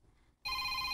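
A telephone begins ringing for an incoming call after a near-silent moment, its bright electronic ring tone sustained and clear for the remaining half second.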